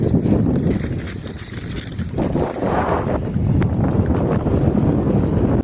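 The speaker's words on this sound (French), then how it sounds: "il y a le vent qui fait" Strong wind roars steadily across the microphone throughout, a dense, rumbling blast with no letup, blowing snow at Pyramiden, Svalbard.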